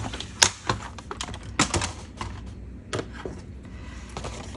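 Scissors cut through paper up to the fold for a journal project, making a series of close, crisp snips and clicks at an uneven pace.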